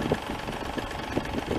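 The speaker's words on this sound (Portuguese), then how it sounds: "Aqui está o verdadeiro clássico. Yamaha DT" A 1989 Yamaha DT LC 125 YPVS two-stroke motorcycle engine idling close by, a steady, even burbling drone with faint rhythmic pulses and no talk.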